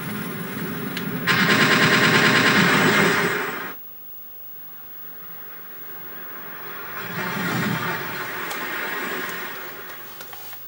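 Rapid automatic gunfire from the CD-i game Chaos Control, a dense bright burst of about two seconds, then a pause and a second, softer rattling stretch of shots.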